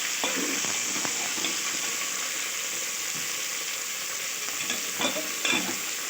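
Sliced okra tossed and stirred in hot oil with cumin and mustard seeds, a steady close-up sizzle broken by occasional scraping strokes of the spoon, with no one talking.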